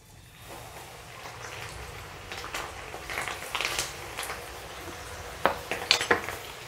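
Okra goes into hot oil for deep frying, with a soft rising hiss and a few sharp clinks of utensils against the pan near the end, close and moderately quiet.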